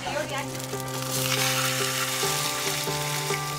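Mackerel fries in a pan with a steady, close sizzle and crackle that swells slightly, over a faint background hum.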